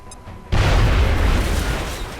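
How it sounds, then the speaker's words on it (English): Grenade blast in XCOM: Enemy Within, thrown into the back of an 18-wheeler: one sudden, loud, deep boom after a quiet moment, followed by a broad rumbling roar that slowly fades. "tossed the grenade into the back of the 18-wheeler"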